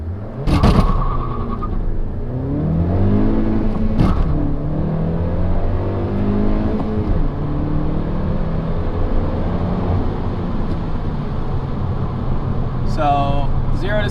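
A Honda Civic Si accelerates hard from a standstill, its engine rising in pitch through the gears in repeated climbing sweeps with shifts between them, heard from inside the cabin over a steady road rumble.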